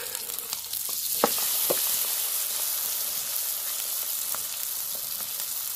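Field shrimp coated in batter fry in a pan of hot oil, giving a steady close sizzle with occasional sharper pops and crackles throughout, no voices.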